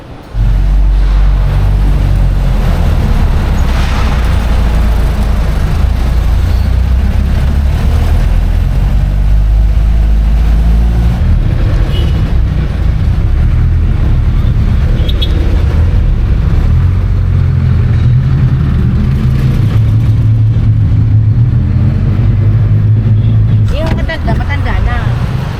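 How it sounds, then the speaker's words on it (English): A Jeep rides along a road in the Philippines with a loud, steady low engine rumble and road noise throughout, and muffled voices mix in over it. "That was a Jeep ride, let me tell you."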